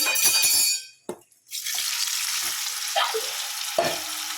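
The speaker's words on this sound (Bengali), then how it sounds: "এখানে কড়ায় তেল দিয়েছি পনিরটা ভেজে নেব" Paneer pieces sizzling in hot oil with turmeric in a wok, a loud crackling hiss that cuts out briefly, then resumes as a steady fry with a few soft clatters.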